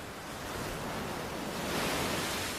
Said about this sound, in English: It's paradise framed by crashing waves.